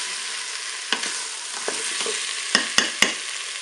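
Courgettes and potatoes brown in a Cookeo multicooker with a steady close sizzle, broken by a few sharp clicks and light scrapes of a utensil against the pot.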